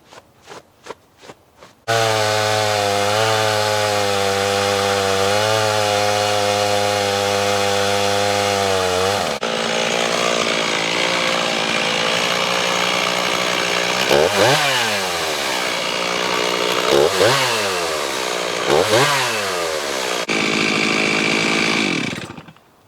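Chainsaw ripping a cedar log into planks, loud and close: a few short revs, then a long sustained roar under load, with pitch sweeps as the engine bogs and recovers before easing off.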